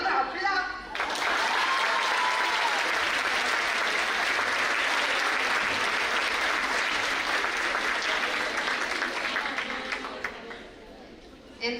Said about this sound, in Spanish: así que ¡otro aplauso!